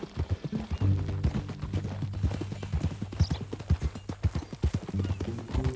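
Horse hooves clip-clop steadily on a path in the Western video game Red Dead Redemption, a close, even trotting rhythm that runs throughout with no talk over it.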